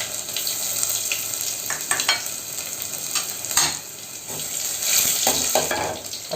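Crushed garlic, ten cloves, frying in hot oil with cumin for a coriander dal sambar tempering: a steady sizzle with a few utensil scrapes and clicks as it is stirred, close and fairly loud.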